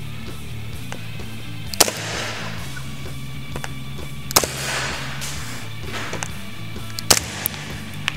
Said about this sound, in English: I'm going to take a couple of shots in the face.